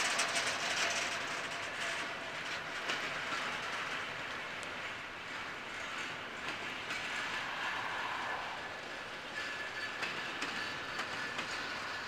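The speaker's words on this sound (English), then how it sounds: "it looks like we have the end of the train coming this way." CSX freight train F767 led by an AC6000 locomotive passes close by, its TTX cars rolling in a loud, continuous rumble with a rhythmic clickety-clack of wheels and faint squeal throughout.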